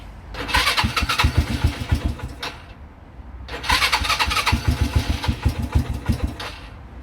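An ATV engine cranks and roars to life twice, each start a loud, rough revving burst lasting a few seconds with a brief lull between.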